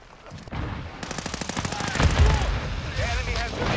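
Rapid bursts of video game gunfire from a full-auto shotgun, with repeated loud, close shots that build into sustained shooting over a rumbling battle backdrop.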